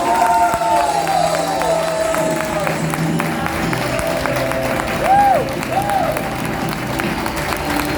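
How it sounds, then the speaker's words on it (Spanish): A church congregation claps and cheers during a Spanish-language sermon, applause filling the room steadily for several seconds with a brief swell near the end. "Aplaudan al Señor."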